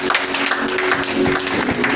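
Church congregation clapping during a festival of tabernacles worship service, a loud continuous burst of applause with some voices mixed in.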